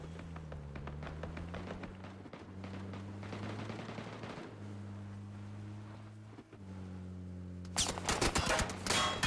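Gunfire in a PUBG esports match: rapid bursts of shots over a steady vehicle engine drone, with a louder, denser volley erupting near the end.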